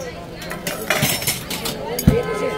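Steel utensils clink at Bhuleshwar utensil market in Mumbai, a few light metallic taps and one sharper clang close by, mixed with busy market voices and people talking.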